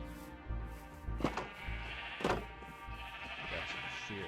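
Video game sheep bleating, two distinct bleats close together over a faint background, quiet overall.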